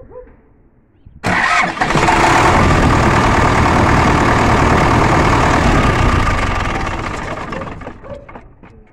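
A D245 diesel tractor engine roars to life after a short quiet start, running loud and steady with a heavy rumble before easing off slightly at the end.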